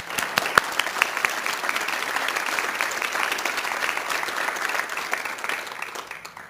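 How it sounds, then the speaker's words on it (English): Sustained applause from a large audience at the 2023 New South Wales Australian of the Year Awards honouring the nominees, steady and full for about six seconds before tapering slightly at the end. "Let's give them all a round of applause."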